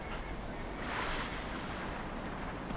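Soft, continuous rushing of water under a small boat crossing a river in the video game Limbo, with a breezy hiss, swelling briefly in the middle, with no voices.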